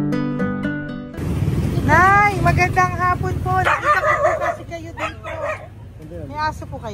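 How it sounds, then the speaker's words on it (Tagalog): A dog at a home yips and barks in short bursts, mixed in with people talking nearby. "May aso po kayo?"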